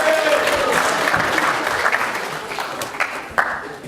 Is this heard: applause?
yes